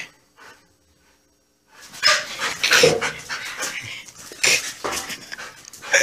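A dog pants and snuffles close by, rapid breathy bursts starting after a brief quiet moment, with a faint whimper-like tone.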